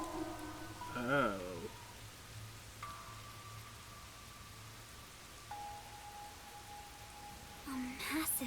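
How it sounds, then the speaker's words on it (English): Steady rain from the rain-soaked village of Kanai Ward in the game Rain Code, a constant soft hiss throughout with brief music tones and a voice-like swell near the start. "And all the rain and clouds are coming from here."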